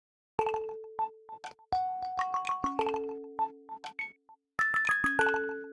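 An Apple iOS 17 ringtone: bright, plucky chime notes in a bouncy, stop-start melody with sustained tones underneath, played clearly and alone with no voices.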